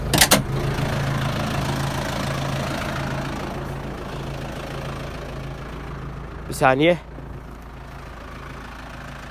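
Tractor engine idling steadily in a low, continuous rumble throughout, with a person speaking briefly at the start and a short sharp squeal or whine near the end.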